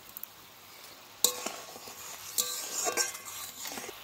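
Split green chilli dropped into a simmering puti fish jhal, with a soft bubbling sizzle and two sharp utensil clinks as it goes in, followed by a light stir, close and fairly quiet.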